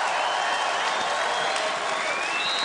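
Steady crowd noise of cheering and clapping at a beach volleyball match in Rotterdam, a dense continuous roar of a raucous home crowd with no clear breaks.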